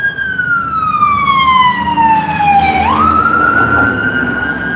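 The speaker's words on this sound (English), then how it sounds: "there's another ambulance" A loud ambulance siren wails past on a street, its long sweeping tone falling steadily, then dropping sharply in pitch as it goes by, over low traffic rumble.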